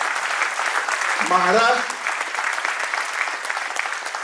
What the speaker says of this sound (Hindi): बहने ज्यादा ताली बजाए जरा